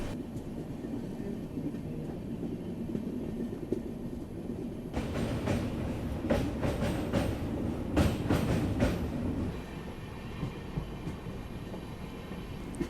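A diverted Rajdhani Express rolls along the rails toward Dibrugarh at dawn, a continuous rumble with rhythmic clickety-clack wheel beats that grow louder in the middle and then ease off, heard from on board.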